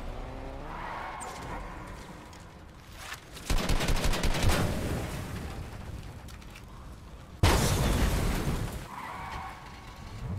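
Cars blow up in the Fortnite video game, heavy bursts of crackling blast noise arriving suddenly, one long rumbling burst followed by a second sharp explosion, between quieter stretches of game sound.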